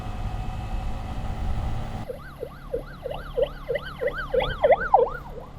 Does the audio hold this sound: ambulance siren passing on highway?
yes